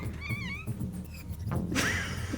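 A person's voice imitating a pained scream, with a wavering, warbling cry followed by a louder rough outburst, close and fairly loud with no other talk.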